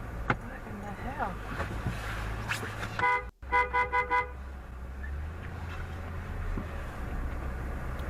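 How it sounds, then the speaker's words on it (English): A car horn beeping in a parking lot: a burst of several short, quick toots close by over a steady idling vehicle hum, with some chatter around it. "I almost hit my truck, so I beeped."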